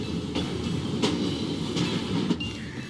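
Train rolling past in the video game Assassin's Creed Syndicate, a steady rumbling rail sound with a few sharp clacks, fairly loud and continuous across the moment.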